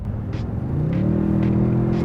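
A 2022 Toyota Tundra's twin-turbocharged V6 engine revs up, its deep rumble rising steadily in pitch as it accelerates, loud and close, with no talk over it.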